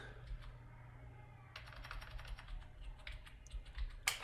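Light, quiet typing on a computer keyboard while entering text in AutoCAD, a steady patter of soft key clicks that grows busier partway through, with one sharper tap near the end.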